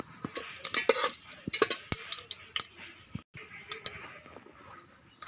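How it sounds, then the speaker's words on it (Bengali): Whole cumin and mustard seeds crackle in hot oil for a South Indian sambar tempering, with sharp, irregular pops and clicks over a faint sizzle, close to the pan and without talk. "তেল গরম হয়ে গেছে, দিয়ে দেব গোটা জিরা আর সর্ষা।"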